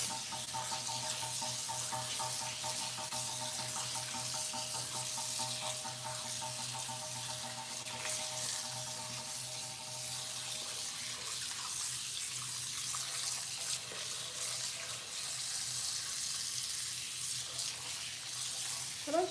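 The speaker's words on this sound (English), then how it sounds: "Then I'm gonna put some cold water in my pot to keep my noodles from sticking." Cold water streams from a kitchen tap into a cooking pot in the sink, a continuous, fairly soft rushing that lasts throughout with only slight changes in tone.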